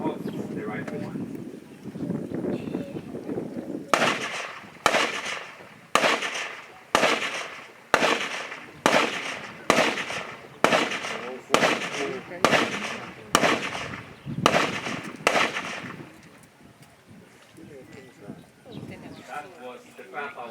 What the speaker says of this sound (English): Let us listen to the firepower of the rifleman.